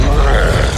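A Confringo explosive spell goes off in Hogwarts Legacy, a short, loud, dense rumbling blast that roars steadily for under a second with no pause.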